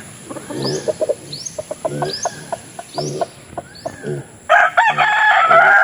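Several Boston Roundhead rooster crows repeat one after another at a steady pace, loud and close, followed by a harsher, busier stretch of crowing at the end.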